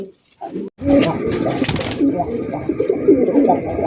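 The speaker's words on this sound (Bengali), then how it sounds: "লাল টুকটুকা বোম্বাই কবুতর আপনারা দেখতেই পাচ্ছেন" Red Bombay pigeons coo in a loft, a steady low murmur of overlapping calls running from just after the start, with some faint talk near the beginning.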